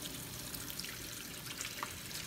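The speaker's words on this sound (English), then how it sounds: "I like to have just a little bit of water running over the beet like this." A thin stream of tap water runs steadily over a beet in a kitchen sink, a quiet continuous trickle and splash with no talking.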